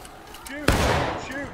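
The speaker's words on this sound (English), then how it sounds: "Keep firing, boys." Musket volley in the War of Rights Civil War battle game, a single loud crack followed by a rolling, echoing report, with a shouted voice nearby before and after.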